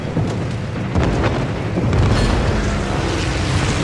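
A heavy, sustained explosive roar from a dive bomb striking a French battleship in World of Warships, loud and dense throughout with a deep rumbling boom and no voices.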